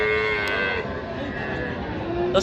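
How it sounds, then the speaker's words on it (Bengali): A calf moos steadily for a couple of seconds, a drawn-out low call up close, at a calf market in Raniganj, Dinajpur, with faint chatter in the background. "এই যে এখানে এই বাছুরটা দেখছি"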